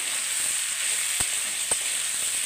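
Pumpkin pieces hiss and sizzle in a pan while being cooked into a Bengali kumro chechki, a steady frying crackle broken by two brief thuds of stirring.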